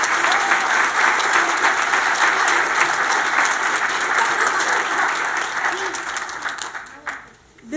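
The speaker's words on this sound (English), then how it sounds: "So let's give them a round of applause." Audience at a kindergarten play gives the young narrators a warm round of applause, loud and sustained crowd clapping that fades away in the final second.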